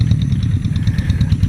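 A tractor engine running in a rice field, a loud close chugging idle with a rapid, even pulse and no voices.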